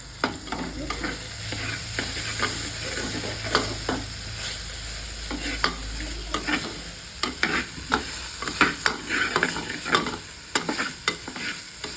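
A spoon stirs ivy gourd stir-fry in a pan, with repeated scraping and clacking strokes over a soft sizzle, close and busy, quickening toward the end, with no talk.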